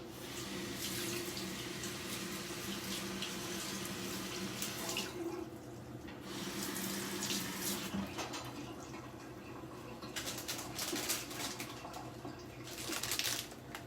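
Tap water runs steadily into a sink while a blender cup is rinsed under it, with the stream splashing and shifting in intensity as the cup moves, at moderate distance.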